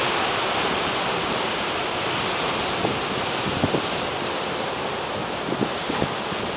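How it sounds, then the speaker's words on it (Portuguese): Ocean waves break at a beach in a continuous loud rushing wash, with a few faint low thumps near the end and no voices. "Olha essa onda aqui atrás. Olha, essa tá grande, hein?"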